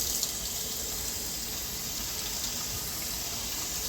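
Running water rinses a freshly hydro-dipped deer skull, a steady close hiss and splash from a tap that holds constant throughout with no talk.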